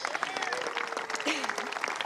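Scattered, fairly faint applause at a cricket tournament final ceremony honoring Frank Linders, with clapping mixed under crowd chatter and a voice nearby.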